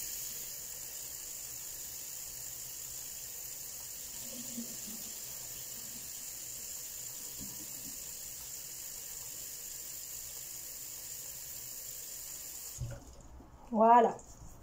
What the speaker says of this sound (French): Maintenant que j'ai rempli mon bidon,